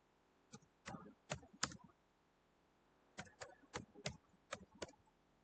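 Keystrokes on a computer keyboard while a line of CSS code is typed: two quick bursts of crisp, close clicks separated by a short pause, fairly quiet, with no talking.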